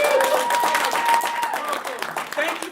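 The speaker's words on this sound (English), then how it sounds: "Give a round of applause." Applause from an improv show audience at a small theater, dense steady clapping with a few whistles or cheers mixed in, loud and close for the whole stretch, with some voices in the crowd.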